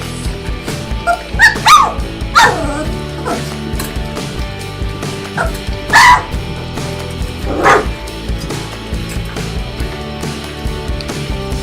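Several three-week-old puppies give scattered high yips and little barks, close by, with soft rustling and whimpers between the sharper calls.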